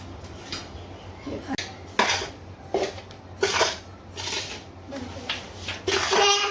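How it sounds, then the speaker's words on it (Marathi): Salt is stirred into a mango pickle spice masala in a metal pot, heard as repeated scraping and clinking strokes of a spoon against the vessel, near and fairly loud, with faint voice in the background. "आता ह्या मसाल्यामध्ये एक किलो टाटा नमक मिक्स करून घ्यायचे सर्व"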